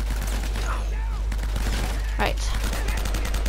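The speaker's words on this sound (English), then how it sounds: "I'm gonna get the M4 because there's loads of ammo for it" An M4 rifle fires in Uncharted: Drake's Fortune in rapid bursts of shots, with a low drone underneath and a short spoken word.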